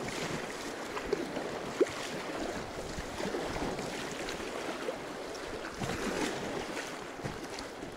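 A small boat on the Sukhaya Tunguska river crosses choppy waves, with a steady rush of water and wind buffeting the microphone and a few slaps of the hull over eight seconds.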